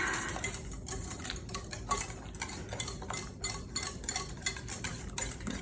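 A whisk beats cold butter pieces into custard in a bowl, giving rapid, rhythmic metallic clinks and swishes that repeat continuously and close by, with no talking.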